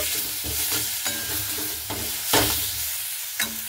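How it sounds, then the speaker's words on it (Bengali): Spinach stirred in a pan after sugar is added, a close, steady frying hiss broken by repeated spatula strokes and scrapes against the pan. "চিনি দিয়ে একটু ভালো মতো করে নাড়াচাড়া করে নিচ্ছি"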